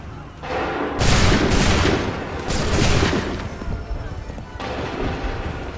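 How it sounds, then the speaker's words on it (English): Volleys of musket fire from massed troops in Assassin's Creed 3, loud crackling bursts around one to three seconds with a later ragged round near five seconds, under voices shouting commands. "Open fire."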